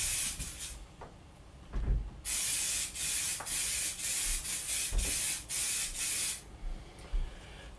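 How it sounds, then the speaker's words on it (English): An aerosol can sprays polymer coating onto a 1950 MG engine head gasket in a long hissing burst followed by several shorter bursts, close up, with faint handling knocks between them. "Just gonna spray the head gasket both sides, a couple of coats of the polymer"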